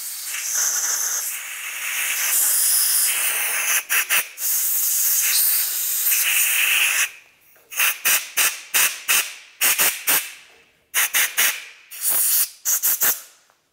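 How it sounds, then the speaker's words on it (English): Compressed air hisses steadily as it is sprayed through the ports of an EGR valve from a 1998-2002 Lincoln Navigator, followed by a series of short, sharp bursts of air in quick succession. "we'll continue on with some compressed air. You want to make sure you spray out each of the ports"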